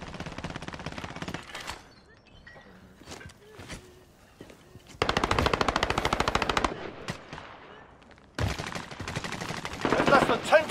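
Automatic gunfire in a battle royale video game, loud rapid bursts near the listener interspersed with footsteps and quieter in-game sounds, with game voice lines heard faintly.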